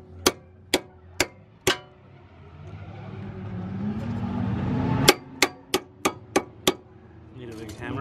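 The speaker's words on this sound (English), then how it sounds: "Give this area a good whack." Hammer blows striking a car suspension knuckle, four sharp metallic whacks followed by a rising engine-like drone and then a quicker run of six loud strikes, with a voice briefly at the end.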